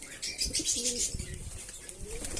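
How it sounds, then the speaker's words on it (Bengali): Soft pigeon coos mixed with brief wing flutters and light chirps nearby, fairly quiet, with no talking. "একটা বেশ ভালো পায়রা"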